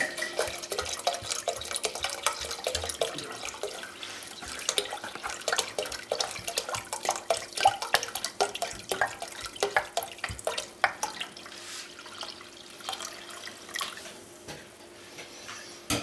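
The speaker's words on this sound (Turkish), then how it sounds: "Bir buçuk litre şarabın geri kalanını tencerenin içerisine aldım." Wine pours steadily into a cooking pot for several seconds, a continuous splashing trickle with small clinks and drips, fairly close.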